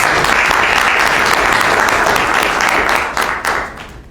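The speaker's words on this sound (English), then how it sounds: "So I want you all to give yourselves a round of applause." Audience at a commissioners meeting applauding, a steady dense wash of many hands clapping close by for about three seconds before thinning and fading out.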